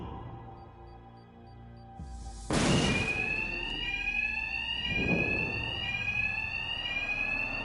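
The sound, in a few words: alarm ringing in the video game Arkham Knight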